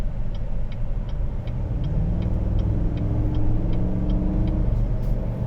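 A 2019 Chevrolet Suburban RST engine idling, a steady low rumble that stays quiet and even throughout with a faint periodic ticking above it, no speech.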